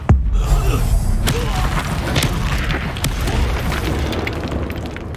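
A Confringo blasting spell explodes in Hogwarts Legacy, a magical combat video game, with a heavy boom at the start followed by crackling, rumbling debris and scattered sharp pops, loud and continuous.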